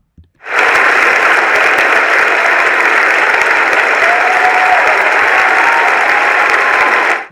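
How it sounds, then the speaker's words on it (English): Children and staff at a school celebration assembly clap together in a loud, sustained burst that starts abruptly and holds steady for about seven seconds before stopping. "Lots of clapping then."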